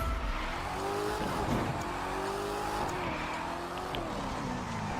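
A car drifting with nitro boost in The Crew 2, its engine roaring steadily and close with rising and falling pitch and tire squeal under the revs, loud and continuous.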